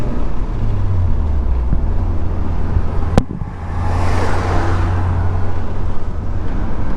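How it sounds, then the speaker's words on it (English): A car speeds past on the road outside a Nissan S14 Kouki, heard as a loud, steady rush of engine and tyre noise with a brief sharp knock midway, no speech. "That car is driving crazy."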